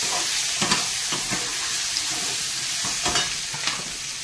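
Raw mango pieces and turmeric frying in a pan for chutney, a steady loud sizzle with repeated stirring scrapes and clinks throughout.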